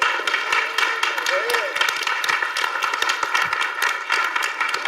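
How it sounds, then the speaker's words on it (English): Applause fills a city board meeting as the room honors a longtime coach, with a steady spread of clapping from the audience and some voices and murmuring mixed in throughout. "Let's give him a round of applause."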